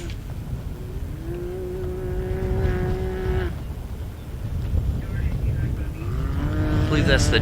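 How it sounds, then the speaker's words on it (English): The 919 car in Ultra4 off-road racing on the prairie, its engine rising and falling in pitch across tonal sweeps, heard under a commentator's talk. "I believe that's the 919 car"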